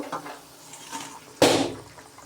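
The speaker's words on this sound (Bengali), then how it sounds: "ঝোল তো ভালোভাবে ফুটে গেছে, এখন ভাজা মাছগুলোকে দিয়ে দিব।" Fried tengra fish are dropped into a pot of boiling thin curry, making a sudden loud splash and sizzle after a quiet stretch of faint kitchen clatter. The bubbling then fades gradually.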